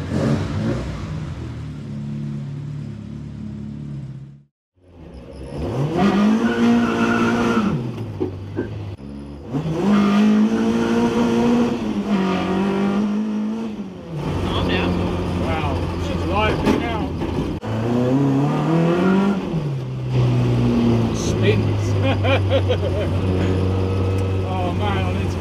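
A Ford Escort Mk1 fitted with an ST170 engine pulls hard through several loud, rising acceleration runs, its revs climbing and dropping in repeated surges with a brief lull between.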